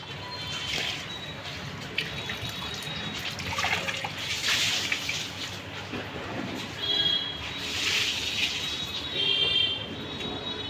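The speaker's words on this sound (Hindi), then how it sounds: "देखो दिल्ली पानी पानी हो गई और अभी भी बादल छाए हुए हैं" Rainwater streams and trickles after a heavy downpour in Delhi, a continuous watery rush seen from a home gallery, with swelling surges and faint background clatter.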